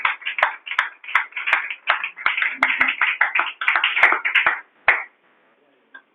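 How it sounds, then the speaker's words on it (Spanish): Rhythmic clapping for Jesus in a church, steady beats that blur into a patter for about five seconds before stopping abruptly, with faint taps after. "aplauso a Jesús"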